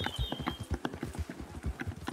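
A horse in the video game Red Dead Redemption 2 clip-clops along at a steady, rapid gait, its hoofbeats close and loud in an even rhythm with no talk over them.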